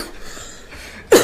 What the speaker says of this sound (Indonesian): Jadi batuk kan?